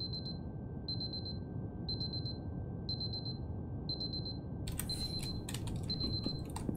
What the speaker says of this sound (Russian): Куча будильников, которые орут в 6 утра.